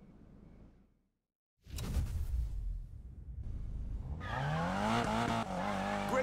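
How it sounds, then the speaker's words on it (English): A car drifting in the racing game Need for Speed Payback: a brief engine surge, a pause, then revving engine and rising, wailing tire squeal as the car slides, loud and close. "Lighting up those tires is a piece of cake."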